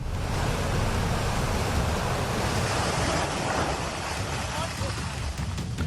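Swollen floodwaters of the Beas river roar after a cloudburst at Hamirpur, Himachal Pradesh, near the Kaleshwar Mahadev temple ghats. The rushing, wave-like sound is loud and continuous, with a voice speaking over it.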